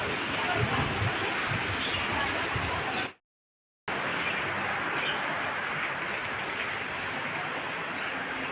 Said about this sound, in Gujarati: વરસાદ આવી ગયો છે.